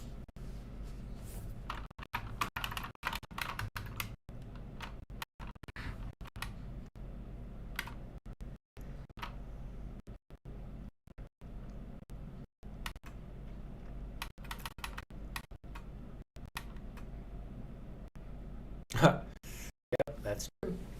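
A computer keyboard clatters in irregular bursts of quiet keystrokes with short pauses between runs, under a voice in the background, and one sharper click stands out near the end.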